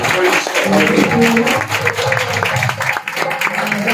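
Church congregation clapping during an Urdu worship service, strong applause mixed with voices and a musical tone, fairly loud and continuous over the short span.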